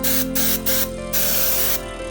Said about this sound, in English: then I'll spray the middle. You notice I'm using short bursts.